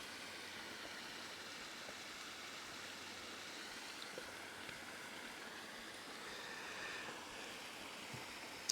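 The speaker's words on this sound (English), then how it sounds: "The waterfall is right here." Waterfall beside a creek, heard as a continuous broadband rush of falling water, steady and fairly distant, with no talking.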